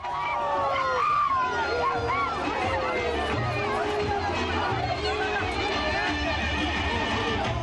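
A Turkish crowd of unemployed workers surges against a police barricade, a dense, continuous roar of shouting and chatter at steady loud volume with overlapping voices throughout.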